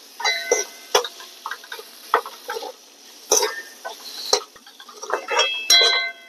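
A spoon clinks and scrapes against a pan while red chilli powder and garam masala are stirred in, giving irregular close metallic taps and scrapes with quiet gaps between them.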